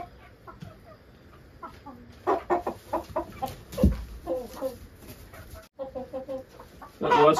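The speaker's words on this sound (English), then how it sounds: "So this is one of our roosters." Chickens clucking in short, irregular bursts, a rooster among them, with other birds chirping faintly in the background.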